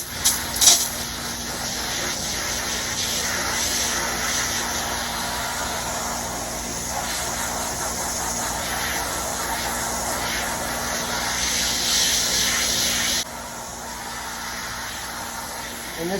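A hose or sprayer blasts water steadily across a soapy boat carpet to rinse it, a loud continuous hiss held close for most of the time before it drops off near the end.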